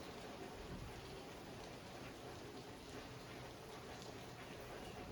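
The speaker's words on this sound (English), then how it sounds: "It's raining." Steady rain falls outside, a dense even hiss of drops on surfaces, constant and moderately quiet with no pauses.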